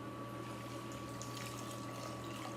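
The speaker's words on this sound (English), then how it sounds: "So the next thing we're going to do is we're going to add 4 cups of chicken broth." Chicken broth pours steadily into a pot of vegetables for Tuscan bean soup, a continuous close liquid gush with a low steady hum underneath, heard alone for a few seconds.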